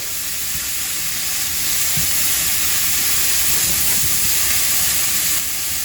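Boneless pork loin fries on a stove at medium-high heat, giving a loud, steady, broad sizzling hiss throughout with a few faint knocks underneath.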